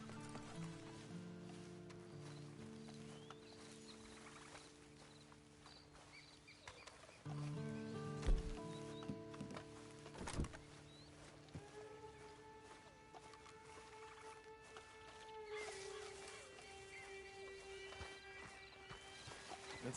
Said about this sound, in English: Then you better get on this horse.